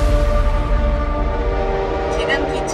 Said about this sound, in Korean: 지금 기차가 제2의 공동경제구역을 지나고 있습니다